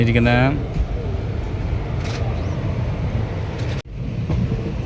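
Rumbling train ride out of Shoranur Junction, a steady broadband roar of wheels and carriage running close throughout, with a brief dropout near the end and faint voices underneath.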